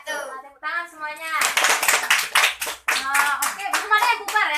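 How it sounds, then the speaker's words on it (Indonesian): A class of young students claps hands after a lesson, with a burst of brisk, busy clapping under raised children's voices, after a few calls are spoken first. "Tepuk tangan semuanya."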